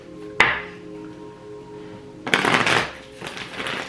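Two bursts of rapid riffling as a deck of tarot cards is shuffled, a short snap near the start and a longer flutter later, with a faint steady hum underneath.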